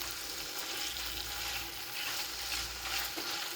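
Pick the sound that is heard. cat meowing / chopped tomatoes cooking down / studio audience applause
chopped tomatoes cooking down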